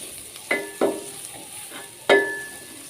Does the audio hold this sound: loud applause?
no